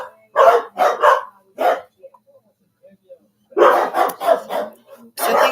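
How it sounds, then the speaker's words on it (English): Dogs bark close by and loud in quick clusters of sharp barks, a rapid burst at the start, a brief quiet gap, then another dense run of barking. "They're not even barking at anything."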